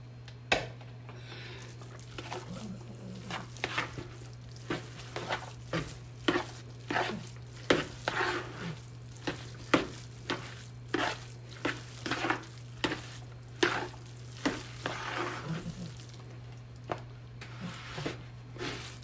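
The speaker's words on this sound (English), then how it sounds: "It works out better that way if you go ahead and mix your cheese in" Cheese stirred into a broccoli rice casserole mixture gives a steady run of soft, wet, squishy strokes about once a second. The strokes are close and fairly quiet, over a constant low electrical hum.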